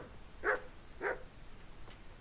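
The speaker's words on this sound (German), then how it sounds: "Gut, der bellt nur." Dog barking in the medieval video game Kingdom Come: Deliverance, two short moderately loud barks about half a second apart over low background ambience, followed by a faint third sound.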